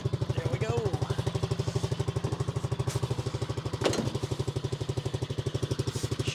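A Honda Fourtrax 300 ATV engine runs at a steady idle, with a rapid even putter throughout, close and loud, and brief clanks over it.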